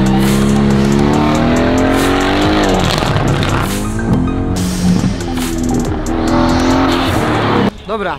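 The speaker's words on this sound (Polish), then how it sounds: "zobaczę, jak ten samochód zachowuje się na torze" A Mercedes-AMG GT R on a race track roars loud and close, its engine note rising and falling through gear changes with squealing tires, and a voice speaks faintly underneath.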